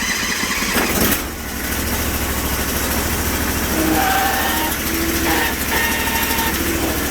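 A 20 HP Bolens 1600H hydro garden tractor's engine turns over in minus-ten cold and catches, settling into a loud, steady, close rumble with no talking.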